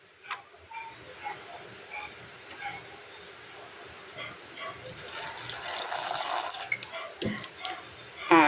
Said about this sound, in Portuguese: Vou acrescentar um pouquinho de água.